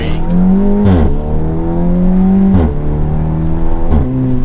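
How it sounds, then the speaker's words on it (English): An Audi S3 engine revs hard at full throttle through the gears up to about 60 mph, rising in pitch with three brief dips at each shift, loud and close throughout. "So that was full throttle up to about 60."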